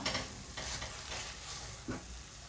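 A thick amla candy mixture is stirred as it cooks in a pan, with a soft steady sizzle and scraping strokes of the spoon. There is no talk.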